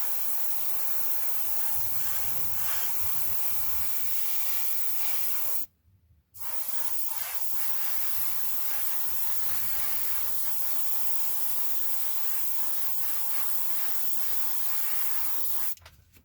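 An airbrush lays a coat of black paint onto a 1/48 scale Kinetic F-104J Starfighter plastic model, giving a steady close hiss that cuts off briefly partway through, then resumes until a short stop near the end.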